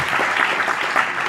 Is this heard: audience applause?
yes